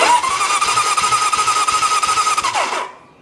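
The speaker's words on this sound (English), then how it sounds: "Let me show you what it looks like if you don't open the throttle up when you crank these things" A 1972 Honda CB750 Four engine cranks with the throttle left closed, a fast, even starter churn with rapid rhythmic pulses for nearly three seconds before cutting off abruptly.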